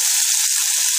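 Chopped onions sizzle in hot oil with mustard seeds, cumin and dried red chillies for agathi keerai sambar, a steady close hiss with no talk.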